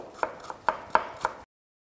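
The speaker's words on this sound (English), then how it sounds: "Just a little bit of red onion, very thinly sliced." A knife thinly slicing red onion on a cutting board, five crisp chops spaced evenly and close, then silence.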